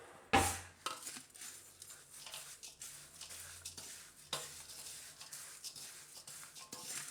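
Nylon poha and oats chevdo mixture is stirred in a pan with very little oil. A loud clank of the spoon opens it, then light scraping and clinking continue up close with no talking.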